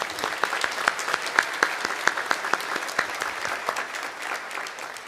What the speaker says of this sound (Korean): 우리 선교사님 잠깐 일어서시면 우리 박수로 또 환영하도록 하겠습니다.